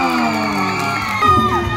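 Festival crowd at an outdoor cultural festival cheering and whooping loudly with sustained, tonal shouts and yells, a dense wall of voices filling the space.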